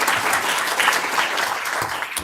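Steady applause from attendees at a Charleston County Council committee meeting, a dense, even patter of many hands clapping throughout, fairly close and uninterrupted.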